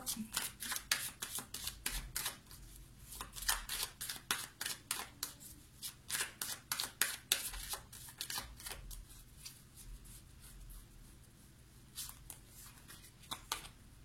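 Tarot cards shuffled and gathered up by hand in a quiet room, a long run of crisp, close card snaps and slaps with brief pauses, faint and with no voices.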